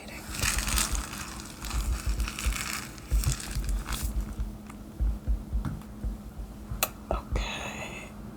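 The wrapper of an imported vegan grocery package crinkles and crumples in close, irregular bursts of crackling, paired with soft handling taps and rustles, intimate and quiet with faint whispering around it.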